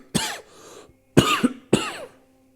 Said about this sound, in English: I've been coughing like this